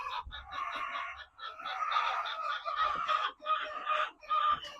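Chickens kept in a coop-style setup rather than battery cages cluck busily and continuously, several birds overlapping close by with no pauses and no one talking.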